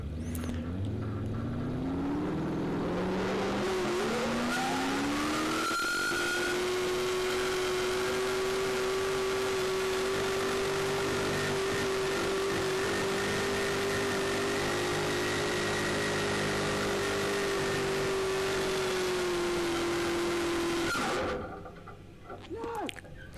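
An open-class 8,000-pound pulling tractor engine roars loud and close through a run. It climbs in pitch over the first seconds, then holds a steady, heavy drone for about fifteen seconds before cutting off abruptly.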